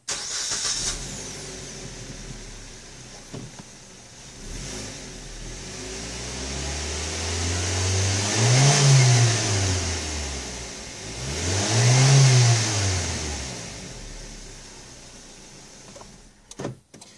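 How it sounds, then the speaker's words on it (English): A 2015 Suzuki Swift fitted with a Dynomax Super Turbo exhaust cranks and starts, then idles with a deep burble. Two separate revs swell and fall back, each louder and throatier, heard close up with no talking. "and this is how the car sounds stuck."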